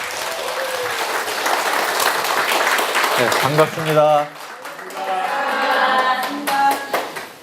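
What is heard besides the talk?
audience applause welcoming lecturer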